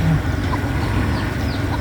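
Chickens clucking faintly amid a steady, noisy outdoor background, with a few short bird calls rising above the hum.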